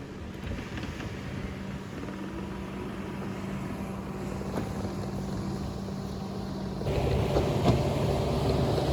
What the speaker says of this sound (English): I hope you noticed we actually have a little bit of wind today